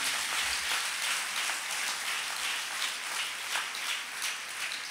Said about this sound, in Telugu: ఇప్పుడు కొట్టండి చప్పట్లు గట్టిగా